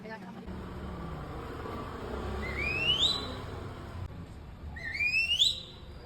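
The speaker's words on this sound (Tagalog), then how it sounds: "pito ko ng pito dito, nakakahiya" A man's sharp, rising whistle calling for a child outdoors, two loud upward-sweeping blasts a couple of seconds apart over low traffic rumble and a faint voice.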